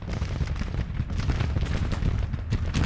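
Distant artillery booms and rolling volleys of musket fire from a Civil War battle near Vicksburg in the strategy game Grand Tactician, a dense, continuous din with no talk.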